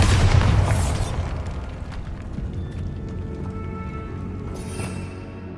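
Bombarda blasting spell cast in Hogwarts Legacy, a loud, booming explosion that bursts at the start and then settles into a rumbling tail, with a second sharp impact near the end.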